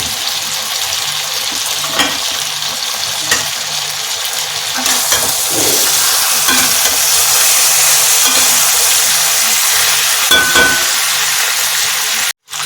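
Potatoes tossed into a pan of Bengali-style chicken kosha curry, frying with a strong steady sizzle that grows louder midway, punctuated by spoon scrapes and clinks, close up and without talk.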